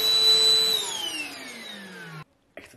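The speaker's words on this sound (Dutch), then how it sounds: "Dit is mijn mobiele stofzuiger." A cordless handheld vacuum cleaner runs loud and steady with a high motor whine, then winds down in pitch as it is switched off and falls silent, followed by a brief clatter.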